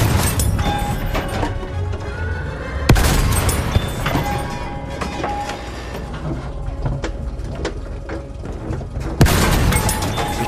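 Artillery explosions in a Battlefield 1 battle, loud booming blasts near the start, around three seconds and again near nine seconds, set against dense continuous gunfire and battle noise.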